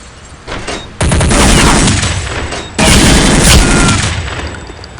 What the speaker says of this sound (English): Did you hear our guns?